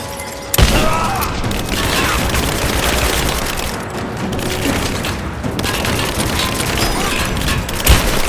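A gunfire attack in Rise of the Tomb Raider, with sustained loud volleys of shots and booming impacts rolling on continuously after a sharp opening blast.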